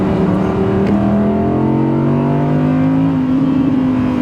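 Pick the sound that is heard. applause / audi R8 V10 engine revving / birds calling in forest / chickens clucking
audi R8 V10 engine revving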